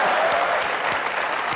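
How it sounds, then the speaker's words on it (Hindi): Studio audience on a comedy talk show breaks into loud, steady applause, a dense wash of clapping that fills the whole moment without any speech. "ठोको ताली।"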